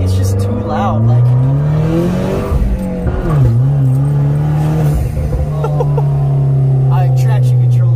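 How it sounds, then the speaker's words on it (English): A turbocharged car running open headers revs hard inside the cabin, its deep engine note rising and falling through several gear pulls, loud and close with rasping exhaust harmonics. "it sounds good with open headers"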